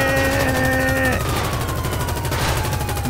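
Gunfire from a GTA 5 gang shootout: dense rapid bursts of shots fill the whole stretch, loud and close, with a tonal siren-like whine fading out early and no talk.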